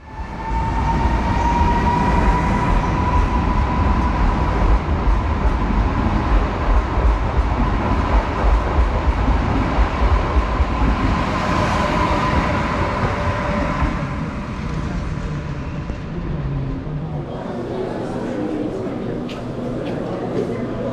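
A Polish InterCity train at a station rumbles steadily nearby with a sustained mechanical hum and a faint whine, continuing for a long stretch.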